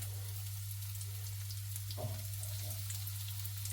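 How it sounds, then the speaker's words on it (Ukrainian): Steady, dense sizzle of chicken fillet pieces frying in a little oil in a pan over medium heat, continuous and close, with a brief clatter partway through. "Сковорідка в нас розігріта, додали трішки олії і викладаємо наші прекрасні шматочки філешки."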